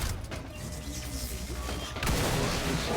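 Gunshot fired at an android in the XCOM Chimera Squad video game, a loud burst of fire erupting near the end over a rumbling, noisy battle backdrop.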